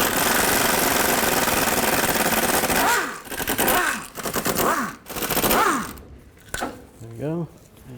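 Dense rapid rattling of an impact or air tool spinning out sway bar bushing bolts with a 10mm socket on a 2000-2006 Chevy Tahoe rear sway bar, loud bursts that break off, then quieter clicks and handling noise.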